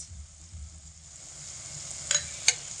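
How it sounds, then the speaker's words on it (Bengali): Spices with cracked cardamom pods are stirred in a frying pan for a vegetarian potato and eggplant dish, a quiet low sizzle punctuated by two short, sharp scraping clinks near the end. "এলাচ দিয়ে হালকা একটু নাড়াচাড়া করে"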